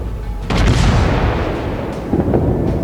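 Heavy naval gunfire from a Fuso battleship in the World of Warships naval combat game, a deep rumbling boom rolling out after a sharp onset, then a second lower thump near the end.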